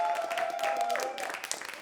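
A crowd at the Prix Kalou awards ceremony applauds briefly for an event team, a short burst of clapping with a sustained tonal hum running through the first second.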